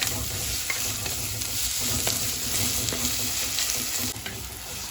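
Chopped shallots, ginger and green chili sautéing in a pan for Kerala-style king fish curry, with a steady close sizzle and occasional stirring scrapes throughout, no talking.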